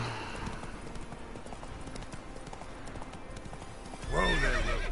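A horse gallops with quick rhythmic hoofbeats in The Witcher video game, ending in a loud close neigh, with no talk over it.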